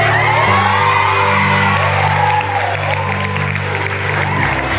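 Loud applause and cheering from wedding guests, with whoops, shouts and children's voices mixed into the clapping, while music plays underneath.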